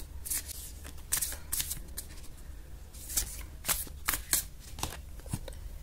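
Tarot cards shuffled by hand, a string of quick papery riffles and flutters in uneven bursts over a steady low background hum, with no talking.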